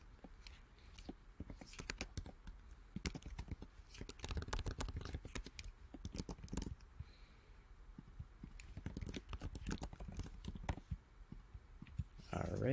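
Quiet keyboard typing and mouse clicks while filling out an on-screen form, irregular bursts of soft taps and clicks close to the microphone, with brief pauses between runs of keystrokes.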